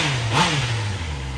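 A 2021 Honda CB650R engine runs close by after a K&N air filter swap, holding a steady low drone with a short rise in pitch, a brief throttle blip, before settling back.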